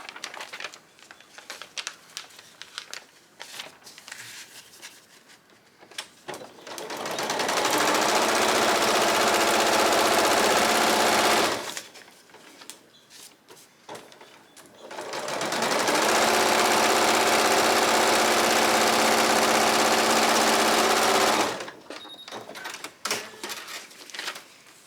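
A sewing machine stitches a paper-pieced Baby Yoda quilt block in two loud sustained bursts of rapid whirring, each around five seconds, separated by quieter handling sounds.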